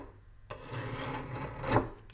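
A hand file rasps across a piece of annealed steel in a steady, close scraping stroke that begins abruptly and swells slightly near the end, with no speech.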